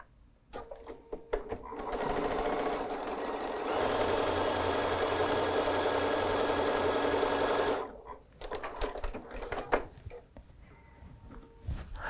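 Domestic sewing machine stitching a quarter-inch seam on quilt patchwork pieces, a steady whirring run of about four seconds that speeds up midway, preceded and followed by light handling clicks and rustles.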